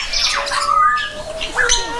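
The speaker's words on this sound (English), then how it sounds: "these apparently are swearing African grey parrots" African grey parrots squawk loudly and close by in a string of harsh, rising and falling calls, with short whistled sweeps between them and no talk.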